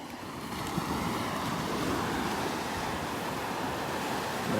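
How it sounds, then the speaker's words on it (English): Rough surf at Delnor-Wiggins beach rolls in as a steady, dense wash of breaking waves with wind rushing across the microphone, loud and continuous with no voices. "We get some rough water here, a lot of wave action."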